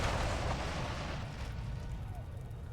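A video game explosion rolls out as a dense, loud low rumble with a long, slowly fading roar, heard alone without voices.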